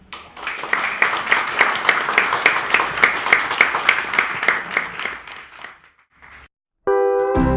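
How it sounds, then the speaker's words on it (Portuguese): An audience at a tertúlia gathering claps in a steady round of applause that fades out after about five seconds, followed by a brief silence before music begins. "peço uma salva de palmas para todos que estão aqui"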